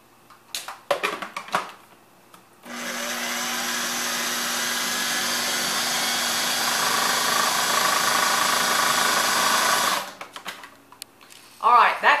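A food processor purees sweet potato for a low-carb casserole, running as one loud, steady whir for about seven seconds, with a bit of talk and handling just before and after.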